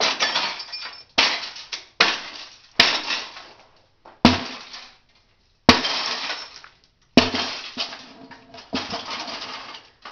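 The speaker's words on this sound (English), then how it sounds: "Now all I have to do is break out all this glass" Glass being broken out of an old tube TV by hand: a series of sharp smashing and tinkling crashes, each burst followed by falling shards and short pauses, close and loud, with no talking.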